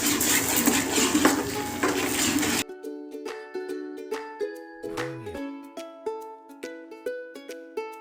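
A spoon stirs potatoes with kitchen king masala and kasuri methi in a pan for Punjabi-style potatoes. Loud rustling and scraping gives way to repeated clinks and taps of metal on the pan, steady and close, with a brief metallic ring midway.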